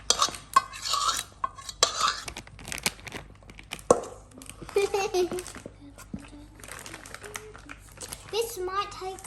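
A homemade three-ingredient bug slime mixture is stirred in a container, giving intermittent scraping, squelching and crinkling bursts between pauses while someone talks over it.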